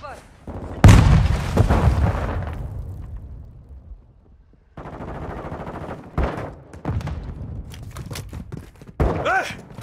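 A heavy, booming grenade blast goes off close by in a Call of Duty: Modern Warfare II match, its rumble decaying over a couple of seconds, followed by scattered gunshots and thuds.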